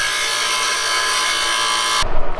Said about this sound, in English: he's over here on the grinding wheel